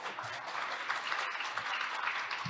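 Audience applause after a presentation at a youth international forum on global citizenship education, steady moderate clapping from a seated crowd in a hall, sustained through the whole moment.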